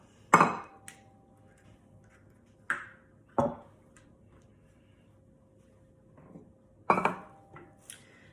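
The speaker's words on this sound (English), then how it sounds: "I'm going to separate this egg. I'll keep the white and I'll make some meringues with it tomorrow. I'll put the yolk in a bowl." An egg is separated for a hot cross bun glaze, with the yolk dropped into a bowl. A few sharp clinks and taps of shell and bowl ring out, spaced apart with quiet between them.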